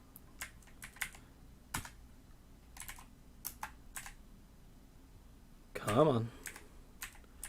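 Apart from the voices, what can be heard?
typing on a computer keyboard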